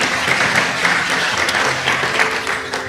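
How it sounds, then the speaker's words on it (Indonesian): A church congregation claps during a sermon, giving a dense, continuous burst of applause that stays loud and even for a few seconds. "Berikan tepuk tangan kita untuk Tuhan kita."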